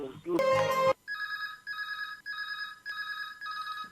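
A telephone rings for a listener's call into an Akola radio phone-in request show, four evenly spaced electronic ring bursts following a short burst of music and voice at the start.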